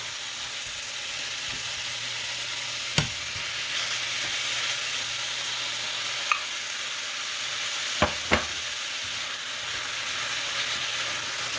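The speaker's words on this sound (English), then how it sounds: "I'm gonna go ahead and add the ground beef." Ground beef sizzles steadily in a frying pan with onions as a crepe filling cooks, a constant close hiss broken by a few sharp utensil clicks against the pan.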